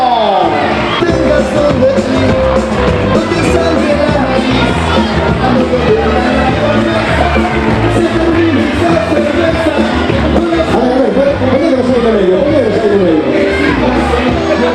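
Large crowd cheering and clapping for prize winners at a carnival awards event, loud dense shouts and whoops with applause throughout, nearby and unbroken.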